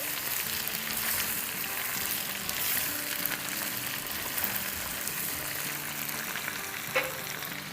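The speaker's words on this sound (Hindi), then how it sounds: "और अब इन्हें हम फ्राई करेंगे प्याज़ों के साथ," Chicken tikka pieces fry with onions in a pan, giving a steady sizzle that lasts the whole time, with light stirring scrapes and no talking.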